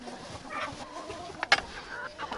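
Hens in a greenhouse coop cluck softly and intermittently at close range, with a couple of sharper calls over a low rustling background.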